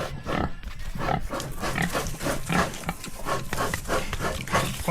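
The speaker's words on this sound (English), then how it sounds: "And look, our friend the pig is back." A pig grunts repeatedly at close range outdoors during cooking in the Philippines, with steady pulsing snorts and grunts loud over a busy background.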